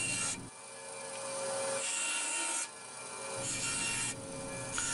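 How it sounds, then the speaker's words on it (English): A bandsaw cuts wood in a woodworking shop. It makes a steady, loud whirring drone with a rasping edge, and the pitch shifts in a few swells as the blade works through the stock. No voices are heard. "Then it's over to the bandsaw, where I managed to make something easy look difficult for some reason."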